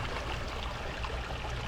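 A canyon creek in Whitney Canyon Park, swollen after a wet season, flows with a steady broadband rush of water, continuous and close, with no voices.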